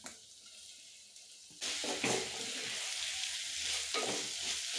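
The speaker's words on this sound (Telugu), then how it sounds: "ఇప్పుడు ఇందులో టమాటాలు వేసుకుందాం" Tomatoes tipped into a hot pan of oil and onions for clay pot chicken biryani, a quiet start jumping to a loud continuous sizzle at about 1.6 seconds, with stirring clatters and scrapes over it.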